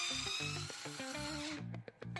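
A cordless electric screwdriver from Temu whirs loudly and steadily in reverse for over a second, then cuts out, followed by a few short clicks and bursts as it stops and restarts.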